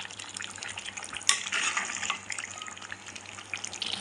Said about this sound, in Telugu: 5 నిమిషాల తర్వాత మూత తీసి ఒకసారి కలిపి ఒకసారి కలుపుకోవాలి